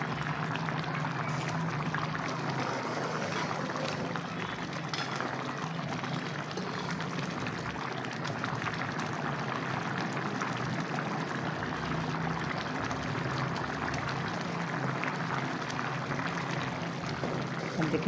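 A pot of rice and water for aloo tahari simmers as the water starts to dry into the grains, giving a steady, continuous bubbling hiss that stays at an even level throughout with no talk.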